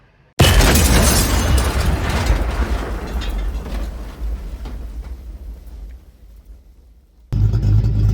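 A Holden Torana SL/R idles with a lumpy, uneven exhaust burble, loud and close, with a sharp onset, a gradually fading rumble, a brief drop near the end, then the engine sound returning.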